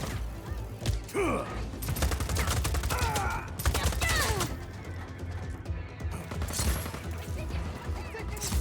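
Video game gunfire in Just Cause 4, with dense bursts of rapid shots and crackling impacts filling a loud, chaotic firefight, interspersed with whizzing effects.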